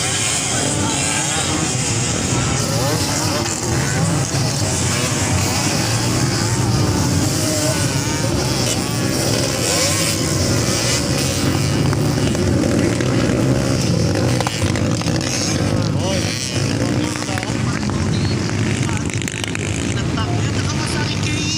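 Motocross motorcycles, Honda XL 125, 185 and 200 models, race at a championship in Montalban, engines droning and whining continuously at high revs with a loud, dense roar that rises and falls as bikes pass.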